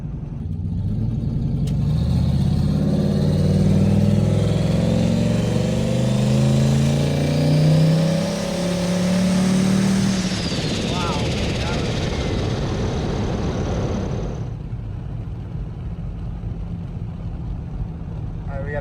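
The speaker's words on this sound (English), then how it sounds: "Yeah, that turbo sounds so good." A big-turbo LS engine in a GMC Sierra truck accelerating under boost, a loud rising engine roar with turbo whine that holds for about ten seconds, then settles to a steadier drone.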